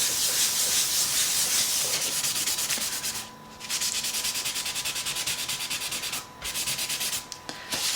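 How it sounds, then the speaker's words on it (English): Coloured pencil rubbed and scraped back and forth across paper in an adult colouring book, a loud, steady close-up hiss of friction that drops out briefly twice, with no voices. "So I need to keep rubbing to get rid of those lines that have appeared."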